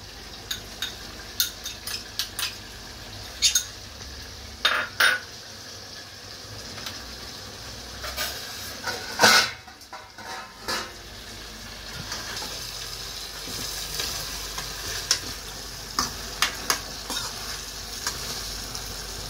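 Sliced onions tip into a hot pan for a quick chicken dish and fry with a steady sizzle, broken by sharp scraping stirs and spoon knocks scattered throughout; no one speaks.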